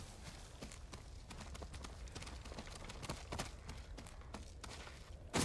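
Horse hooves in the video game Ghost of Tsushima clip-clop in a steady walking rhythm, fairly faint, with a brief thump at the end.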